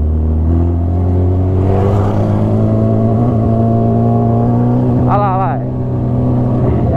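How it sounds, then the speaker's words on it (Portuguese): A Honda CB1000 motorcycle fitted with a car tyre idles loudly and steadily up close, rising in a brief rev partway through, with faint voices underneath. "Vou dar uma aceleradinha, vamos ver."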